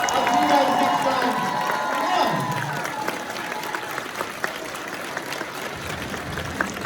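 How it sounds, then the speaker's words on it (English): Convention audience at a comic convention Q&A panel applauding and cheering, a dense sustained wash of clapping with shouts, loudest at the start and easing slightly while staying full throughout. "One more time, a huge round of applause."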